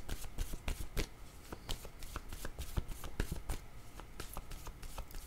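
Tarot cards being shuffled by hand, a rapid run of crisp riffling flicks and slaps close up, continuing steadily for several seconds with no voice over it.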